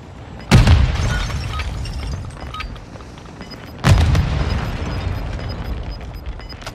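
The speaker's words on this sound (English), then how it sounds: "Somebody threw a thermite." A thermite grenade goes off in a squad-based shooter video game: two loud, close booming blasts about three seconds apart, each followed by a sustained crackling, fizzing burn under a background of distant gunfire.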